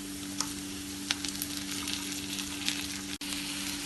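Chopped small tomato added to sautéing onion, ginger and garlic for dal tadka, a steady near sizzle with a few soft stirring taps and a brief dropout near the end.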